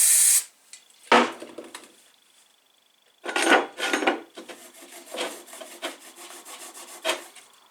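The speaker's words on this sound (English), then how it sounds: "So we get our rag once again and our brake cleaner." A rag scrubs out a valve hole on a go-kart wheel during a tubeless conversion, with brake cleaner; short scraping rubs and a brief spray hiss come in bursts with quiet gaps, close up.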